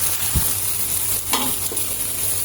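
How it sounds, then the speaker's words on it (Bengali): Onions fry to light brown in a pan for a jackfruit curry, making a steady close sizzle with a few soft knocks from stirring and no voices. "পেঁয়াজটা হালকা বাদামি করে ভেজে নিব"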